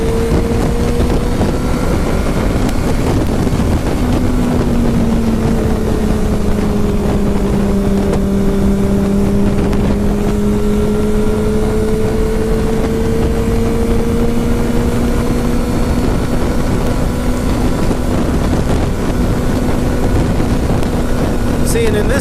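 A Ducati 1199 Panigale S motorcycle rides a road, its engine droning loud and steady with pitch slowly rising and falling under heavy rushing wind noise, heard close from the rider's position.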